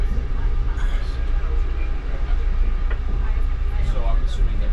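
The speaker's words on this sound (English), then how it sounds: "That's the Keystone train." Amtrak Keystone passenger train with a cab car at the rear, heard from close by as a low, steady rumble and rolling rail noise under people talking.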